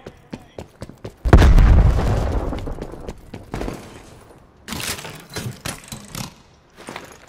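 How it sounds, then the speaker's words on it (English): A grenade blast in a shooter game: a loud, booming explosion erupts with a long decaying rumble, surrounded by sharp bursts of gunfire before and after, with faint voice in the mix. "Throwing grenade!"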